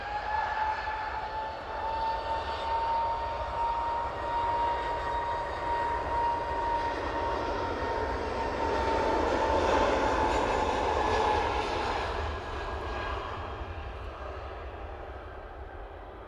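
A jet airliner roars down the runway and climbs away at Manchester Airport, a loud sustained engine rumble with a whining tone that swells and then slowly fades.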